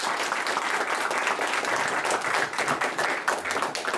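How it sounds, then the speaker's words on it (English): An audience at a talk claps steadily and loudly for a few seconds, a thick, continuous patter of many hands heard close with no speech over it. "So a big applause to both of them."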